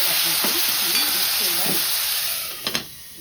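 Garlic and curry leaves sizzle in hot oil with a loud, steady hiss, a few stirring scrapes along the way and two sharp clinks near the end.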